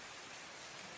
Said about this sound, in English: The rain is stinging at you right now.